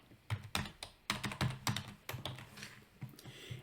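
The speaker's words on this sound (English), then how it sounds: "I'm going to type in equals XLookup." Rapid keystrokes on a computer keyboard while entering a spreadsheet formula, a close, irregular run of sharp clicks and clacks in short bursts with brief pauses, no voice.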